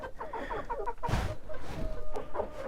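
Hens clucking in a poultry yard with White Leghorn and Livenska chintz chickens, a run of rapid close clucks followed by a louder flurry and scattered calls.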